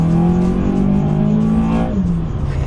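Nissan Silvia S14 drift car engine fitted with a pod filter, droning loudly at steady revs while driving, then easing off as the pitch drops near the end; no talk.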